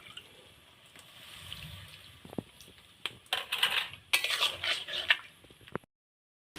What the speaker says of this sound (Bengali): এবার ঢাকনাটা তুলে নেব, দেখব সবজিটা কেমন হলো।